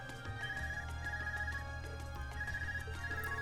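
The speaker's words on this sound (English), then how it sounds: "Is that your Arcus ringing?" An ARCUS communicator rings in the video game The Legend of Heroes: Trails of Cold Steel, repeating electronic trill bursts in a steady pattern over a low droning background, no voices.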